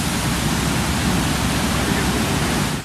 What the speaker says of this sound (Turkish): Artıyor, artıyor, dere artıyor.